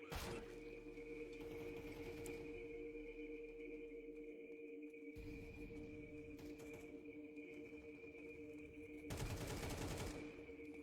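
Gunfire in Counter-Strike 2.0, with bursts of rapid shots crackling at moderate distance in several separate volleys over a steady game background hum, fairly faint overall.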